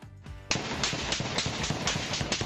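A barrage of rapid gunfire rattles on in a residential neighborhood of Washington, DC, a dense, sustained volley of cracking shots starting abruptly and continuing without pause, heard from some distance.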